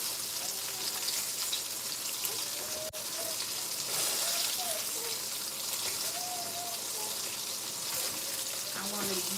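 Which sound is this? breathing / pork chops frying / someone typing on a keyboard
pork chops frying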